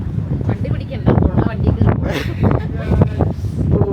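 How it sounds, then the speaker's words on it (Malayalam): Strong wind gusts in Mid-Wales buffet the microphone in low rumbles while a person talks continuously over it. "നല്ല കാറ്റും അടിക്കുന്നുണ്ട്"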